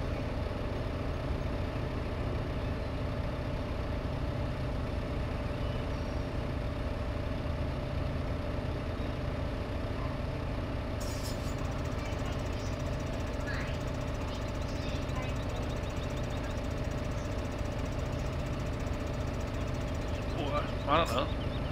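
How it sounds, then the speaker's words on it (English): A big tractor in a farming video game idles at a steady, even rumble that runs unbroken throughout, with a few faint clicks near the end. "It's a big tractor."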